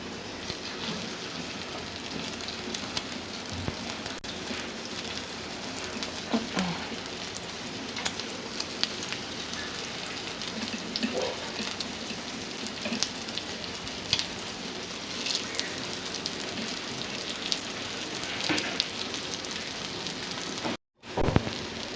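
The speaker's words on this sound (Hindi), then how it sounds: "अब हम फ्राई को अंडा लगा के टिक्की को हम इसको फ्राई करेंगे।" Egg-coated daal mutton kabab patties frying in ghee on a griddle, a steady, moderately faint crackling sizzle with scattered pops throughout.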